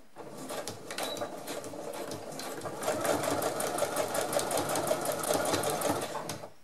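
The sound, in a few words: sewing machine sewing a simple straight stitch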